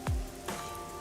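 Rain falls steadily in the video game Rain Code, a soft continuous patter with a brief low thump near the start and a faint tonal music bed underneath.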